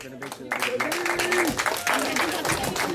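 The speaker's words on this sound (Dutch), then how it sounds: "En ook een groot applaus voor Jennis Mihai van Kiks Ridderkerk." A crowd at a kickboxing event applauds the winner from Kicks Ridderkerk, steady clapping running under a voice that speaks over the noise.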